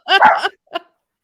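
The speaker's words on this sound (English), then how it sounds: "that was not my dog" A dog barks twice nearby: a strong first bark is followed by a shorter, fainter one, then silence.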